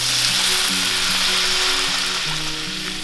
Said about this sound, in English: now I'm just gonna add in 2 cups of water